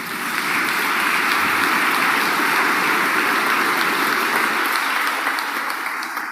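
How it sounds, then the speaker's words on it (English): An audience applauds at a memorial service, a sustained, even wash of many hands clapping together, loud and continuous from start to finish with no voices over it. "That deserves an applause, don't you think?"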